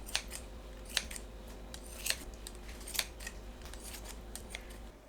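Scissors snip through duck meat into bite-sized pieces, a series of sharp, close cuts at an irregular pace, about six distinct snips over a quiet kitchen background.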